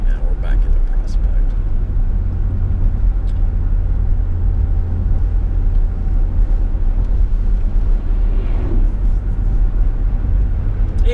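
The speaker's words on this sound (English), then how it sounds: "We're getting back into some more traffic now." Steady low road and tire rumble from a moving vehicle on the Ironman Louisville bike course in Prospect, continuous and fairly loud throughout, with a faint voice in the background.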